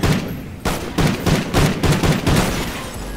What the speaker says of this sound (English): Who's shooting at me from behind?